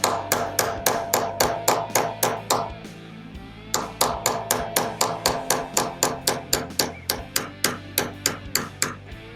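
Hammer striking a punch to drift a pistol front sight into its dovetail, a rapid, even series of sharp metallic taps in two bursts with a brief pause between, close and ringing.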